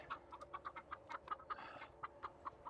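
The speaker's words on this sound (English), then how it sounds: "Them chickens is excited." Chickens cluck in quick, repeated bursts close by, a busy flock chattering with short rhythmic calls and no talking.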